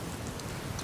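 Rain falls in the Skyrim video game, a dense continuous patter of drops on surfaces with a soft hiss throughout, steady and moderately quiet.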